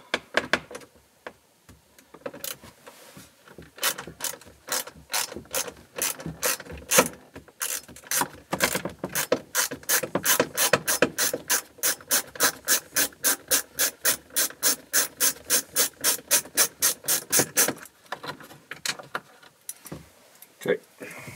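A ratchet backs the centre screw out of a Land Rover Defender TD5 dashboard, sounding as a long run of quick, close metallic clicks that speeds into a steady, even rhythm before stopping.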